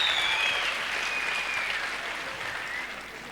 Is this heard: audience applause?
yes